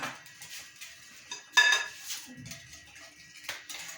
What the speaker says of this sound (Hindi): एंड अभी हम फिर से मिक्स कर रहे हैं